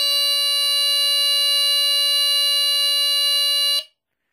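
BRK 3000 smoke detector's alarm horn sounding during an ionization sensor test, a loud, piercing, steady shrill tone held for nearly four seconds before cutting off abruptly into silence.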